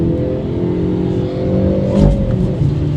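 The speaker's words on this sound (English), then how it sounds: "I love hearing the popping of the exhaust." A 2024 Hyundai Elantra N engine revs steadily with a rumbling exhaust, swelling briefly near the end with a burst of exhaust popping and crackle, close and loud.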